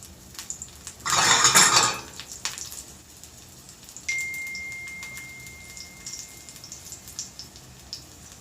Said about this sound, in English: So you need to hear that sizzling sound come from the pan.